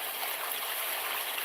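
Steady, hissing rush of a flowing stream, an even wash of water with no pauses, fairly faint and alone, with no voices.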